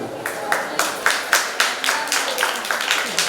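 Audience clapping at a classical dance performance, a crowd's steady applause with rhythmic, evenly spaced accented claps, moderately close and continuous throughout.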